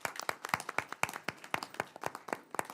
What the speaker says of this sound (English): can you guys give them a round of applause again?